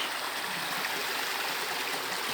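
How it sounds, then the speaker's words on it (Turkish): A creek runs along its streambed in a continuous, close, rushing babble of flowing water, steady and unbroken throughout, with no talking. "Şöyle dere boyundayız."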